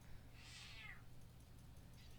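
A cat named Thiefy gives a single clear, fairly quiet meow near the middle of a short stretch, over a low steady background hum.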